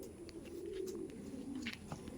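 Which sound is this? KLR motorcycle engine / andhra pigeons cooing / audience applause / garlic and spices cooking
andhra pigeons cooing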